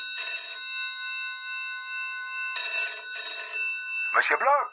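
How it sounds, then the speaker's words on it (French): Old-style telephone bell ringing in two bursts of bright metallic trilling separated by a pause, followed by someone speaking. "Un jour, Marcel reçoit un étrange coup de téléphone."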